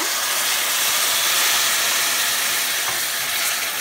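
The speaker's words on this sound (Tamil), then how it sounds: "இது கூடவே ஒரு கப்பு தண்ணி ஊற்றிக்கோங்க" A cup of water hits frying masala for egg curry, setting off a loud, steady wash of hissing sizzle and steam that fills the clip without pause.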